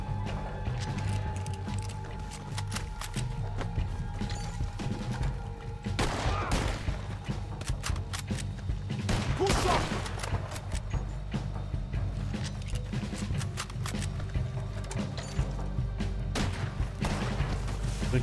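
Rapid bursts of gunfire from the video game Red Dead Redemption 2, with repeated sharp shots crackling over a dense, continuous game soundscape at fairly steady loudness, no talk over it.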